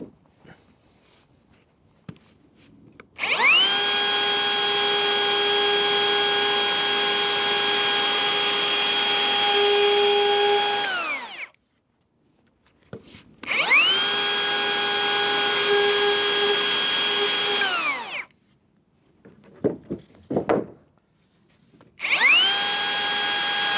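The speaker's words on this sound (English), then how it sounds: "drill the holes" A power drill whirs steadily in two long bursts with a short pause between, then starts a third, drilling holes in a wooden pattern rafter for a roof; brief knocks and shuffling fill the gap.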